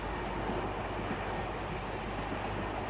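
The Ghan, a train running on the standard gauge railway past the Flinders Ranges between Port Augusta and Marree in 1980, gives a steady, continuous rumble and roar throughout, with no distinct clacks.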